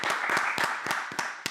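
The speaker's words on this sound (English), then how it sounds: "round of applause for that?" Scattered clapping from a small audience at a skateboarding talk event, a few distinct sharp claps over a soft wash of applause, moderately close and brief.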